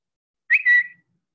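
A brief, quiet chirpy whistle-like jingle, two quick bird-like notes sounding alone in silence: the Twitter app notification sound logo.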